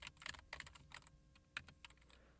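Fingers type on a computer keyboard in short bursts of quiet clicking keystrokes, close but faint, with brief pauses between runs and no voices.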